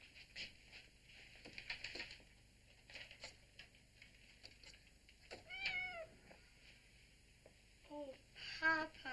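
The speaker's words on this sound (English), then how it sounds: "James, how can we afford to be feeding a kitten now?" A kitten gives several thin, rising meows, spaced out and fairly close, over a quiet room hum with faint background sounds.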